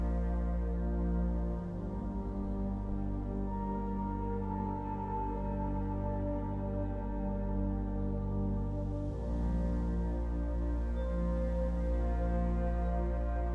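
Steady layered music from the video game Blue Prince plays throughout, with sustained tones that shift midway and again later.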